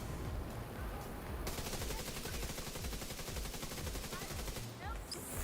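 Defensive turrets in The Division 2 fire rapid, continuous bursts, a loud rattling barrage of automatic gunfire that runs unbroken for several seconds up close.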